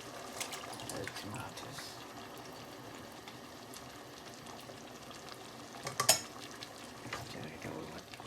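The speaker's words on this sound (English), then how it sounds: "Give it another stir." Chicken curry sizzles gently in a pan while a utensil scrapes and stirs, with a brief clatter of metal near the end.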